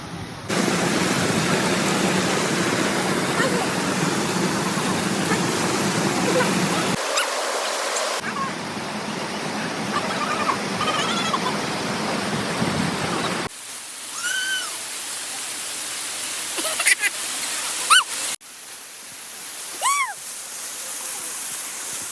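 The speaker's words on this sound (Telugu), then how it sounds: "ఇలా కంటిన్యూస్లీ ఒక మినిమల్ వాటర్ అయితే వస్తూ ఉన్నాయి ఫ్లో" Small waterfall near Araku with water flowing continuously, a loud steady broadband rush heard up close for several seconds, then cut off abruptly, followed by quieter outdoor ambience with scattered chirps and faint sounds.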